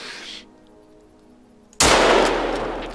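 A single loud, close rifle shot from theHunter: Call of the Wild, a hunting video game, bursts out sharply after quiet ambience, with a long rumbling tail that fades slowly.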